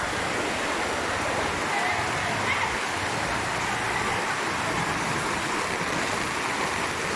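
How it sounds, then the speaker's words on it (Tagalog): Heavy rain pours steadily, a dense continuous hiss and rush of water without pause. "Tuloy-tuloy pa ang buhos ng ulan"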